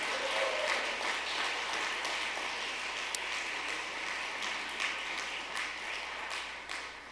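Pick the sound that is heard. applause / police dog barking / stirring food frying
applause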